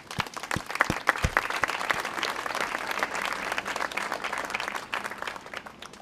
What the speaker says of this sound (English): we should all give a big round of applause